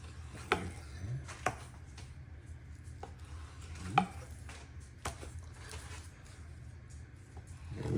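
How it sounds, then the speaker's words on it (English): A knife slices a salmon fillet at an angle on a cutting board, giving a few soft, scattered taps and scrapes spaced seconds apart over a quiet, low background hum, with no talking. "Give it a nice little slice at an angle, helps keep it flatter and cook more"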